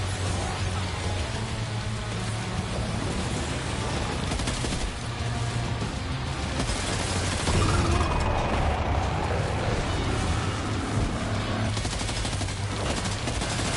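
Pistol gunfire in the video game Death Stranding 2: dense, rapid shots blur into one another and run almost continuously, set within a loud wash of rain-like game noise.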